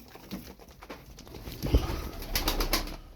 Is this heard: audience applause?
no